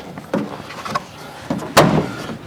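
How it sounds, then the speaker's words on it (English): Plastic pins on a GM S10/S15 S-Blazer/Jimmy interior door panel are pressed into their holes, giving a few close, dull thumps and knocks spread across the moment, with one heavier push near the end. "We're basically just pushing it in on the door panel,"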